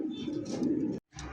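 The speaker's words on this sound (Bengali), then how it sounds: "এই মুহূর্তে দেখতে পাচ্ছেন টকটকা লাল কালারের মধ্যে একজোড়া রাজগোল্লা কবুতর" A pair of red Rajgolla pigeons gives a low, throaty coo, close and moderately loud, which breaks off briefly and then resumes.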